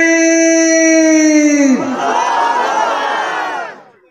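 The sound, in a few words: crowd shouting takbir chant Allahu Akbar at a religious gathering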